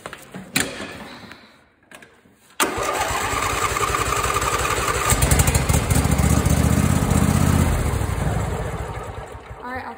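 A Craftsman riding lawn mower with a spark problem cranks after a few clicks and catches, its small engine then running loud and steady up close, with a rough rumbling idle.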